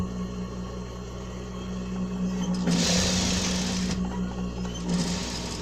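A sewing machine stitches a zipper clutch, a steady close mechanical whir with a louder burst of fast stitching in the middle, then running on more softly; no voices.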